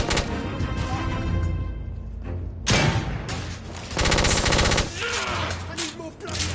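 In The Order: 1886, coach gun shotgun blasts ring out in a chaotic firefight, with loud close bursts and rapid gunfire layered over crashing impacts.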